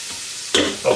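Garlic sizzles in a pot for crab soup, a steady frying hiss that jumps louder as it is stirred partway through, close and continuous.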